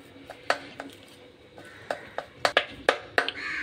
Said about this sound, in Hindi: अब इन सबको हम अच्छे से मिक्स कर लेंगे।